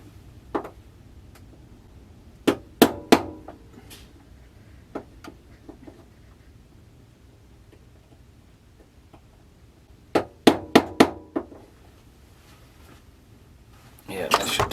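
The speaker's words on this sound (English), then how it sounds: "just tap it on a hard surface" A small cassette motor part tapped against a hard surface, giving clusters of sharp close knocks in two separate bursts with quiet gaps between.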